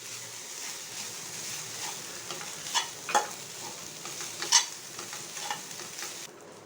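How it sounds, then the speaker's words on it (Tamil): Cabbage fried rice stir-fried in a pan over full flame gives a steady sizzle, with a few sharper scraping strokes of the spatula and no talking. "அடுப்பை ஃபுல்லாக வச்சு 1 நிமிஷம் போல் வதக்கி அடுப்பை ஆஃப் பண்ணிக்கோங்க"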